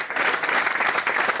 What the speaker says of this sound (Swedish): En applåd igen här nu till Emir Kujovic.